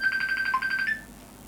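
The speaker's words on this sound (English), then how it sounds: "Sorry, phone call there." A phone rings with an incoming call: a loud, clear electronic ringtone of rapid repeated tones lasting about a second, then stopping and leaving a quiet room.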